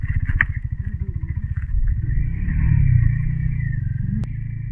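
A heavy motorcycle engine on an off-road trail in Ladakh, a steady low rumble that swells mid-way and holds close and loud, with a brief clack near the end and no talk.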